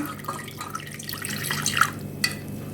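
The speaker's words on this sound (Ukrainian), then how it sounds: "Добавляємо сюди поки що одну чашечку води" A cup of water pours and splashes into a bowl of spice mixture in a short, soft trickle with a few drips, heard close up and without speech.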